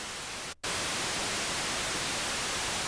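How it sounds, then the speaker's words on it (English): Steady hiss of broadband noise from a Haken Continuum synthesizer running EaganMatrix, loud and constant, cut by one brief dropout near the start. "we'll get a little bit of noise. You can hear that."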